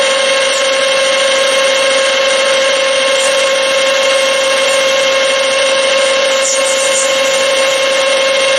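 Metal lathe spindle running steadily at 600 RPM in a workshop, a loud continuous tonal whine and hum that holds unchanged throughout with no speech.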